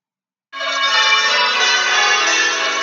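Church bells in change ringing start suddenly and ring on steadily, a loud, close, sustained metallic clangour with no talking.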